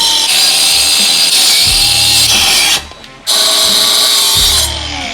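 A power tool loudly grinds and cuts into a motorcycle engine part during a mod, a continuous harsh whine that breaks off briefly mid-way and then resumes close and dominant.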